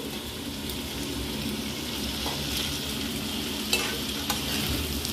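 Boiled chowmein noodles being stir-fried in a pan, with a constant, fairly loud sizzle and hiss and occasional sharp scrapes and clicks from stirring.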